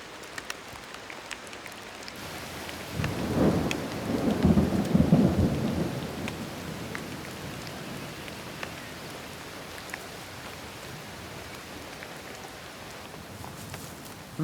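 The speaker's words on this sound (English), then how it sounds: "As spring approaches, the winter snow gives way to rain." Heavy rain falls in Australia's Snowy Mountains in spring, a constant hiss of downpour, with a deep roll of thunder swelling and fading in the middle before the rain carries on alone.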